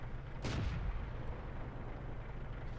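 A Crusader tank's gun fires once in World of Tanks, a single sharp distant boom that quickly fades into a low ambient rumble.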